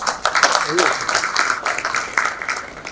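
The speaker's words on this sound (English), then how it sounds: "So huge round of applause for the team to put it together." An audience at a corporate event claps for the organizing team, a dense, sustained burst of applause throughout, fairly loud and close with a faint voice mixed in.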